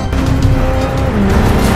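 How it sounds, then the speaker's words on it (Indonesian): A car speeds away during a chase scene in an action film, its engine roaring loud and steady with a brief tire squeal, heard alone without talk. "Lee menemukan Rahmat yang sedang melarikan diri bersama rekannya menggunakan mobil"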